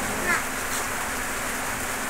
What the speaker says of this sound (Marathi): पाऊस आला त्यामुळे सगळं बंद झालेलं